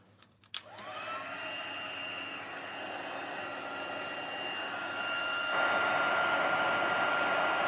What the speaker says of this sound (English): I'm going to bring the heat tool back in and we'll heat that up